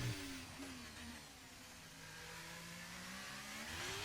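A Ferrari Formula 1 car in a racing game revs up through the gears on the Texas circuit, its engine tone sweeping and climbing steadily, quiet and continuous with no talk.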